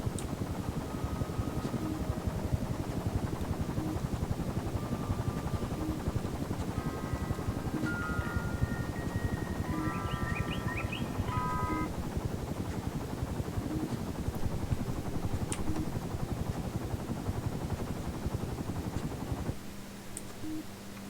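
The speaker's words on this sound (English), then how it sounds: "I'm hearing the helicopters." Helicopters thrum in the video game The Magnificent Trufflepigs, a steady rotor drone running throughout at moderate level, with a few faint tonal game sounds briefly over it.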